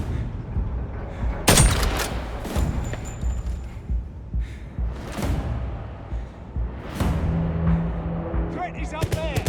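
Gunshots from the spy shooter video game 007 First Light ring out in several loud, sharp bursts spread across the stretch, with whooshes and mechanical clatter in between and no talking.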